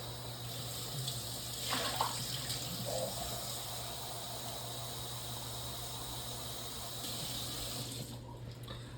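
Warm tap water runs steadily into a measuring cup for pizza dough, a faint continuous splash with a low hum behind it, fading out near the end.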